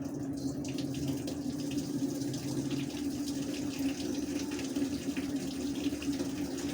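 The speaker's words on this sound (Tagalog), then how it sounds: "Mag-rinse na naman siya." Panasonic top-load inverter washing machine filling with water during a rinse, a steady, moderately faint rushing stream with a constant low hum, running alone without pause.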